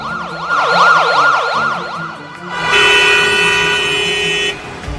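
An ambulance siren wails in a rapid rising-and-falling pattern through traffic, loud and close, then gives way to a blaring horn blast for about two seconds before the siren resumes faintly.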